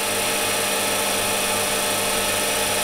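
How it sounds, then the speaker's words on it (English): A metal lathe runs steadily at about 400 RPM as a parting tool is set up on the workpiece, a loud, constant mechanical whir and hum filling the space without pause or speech. "let's give this a go, parting this off"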